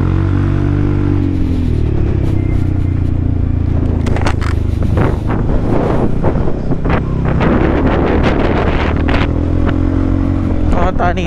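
Strong wind roars across the microphone during a motorcycle ride on a mountain road from Baguio toward Manila, a constant heavy rumble with the engine droning beneath and gusty bursts in the middle.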